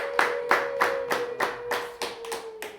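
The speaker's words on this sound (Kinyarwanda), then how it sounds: "nimumfashe tuyihe amashyi n'impundu" Church congregation clapping in steady unison, about nine sharp, evenly spaced claps close by, with a sustained high tone held beneath them throughout.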